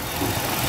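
A 2006 Chrysler 300 with a 3.5 liter V6 idles with the hood open, a brief, steady, smooth engine hum heard close up.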